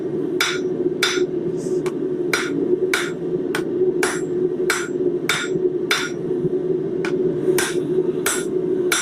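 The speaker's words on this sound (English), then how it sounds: "we are hammering on all four sides to kind of square that up" Metal stock for a round bottle opener is hammered on all four sides, producing a loud, steady series of sharp ringing strikes about once per second over a constant background hum.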